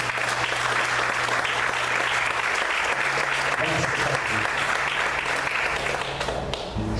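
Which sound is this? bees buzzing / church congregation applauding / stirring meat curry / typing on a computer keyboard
church congregation applauding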